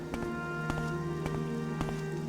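Rain patters in the video game Morrowind, with steady drops hitting surfaces, a few sharper taps at regular intervals, and a sustained tonal game ambience underneath.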